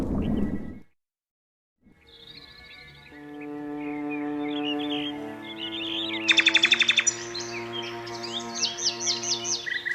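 Birds chirp and trill high above a steady droning tone, with a quick burst of rapid twittering partway through.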